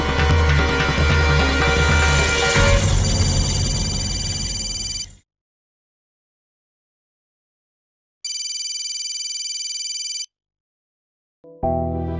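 A mobile phone ringtone plays loudly as a continuous melodic tune, then cuts to silence before starting again in a second loud burst and a brief third.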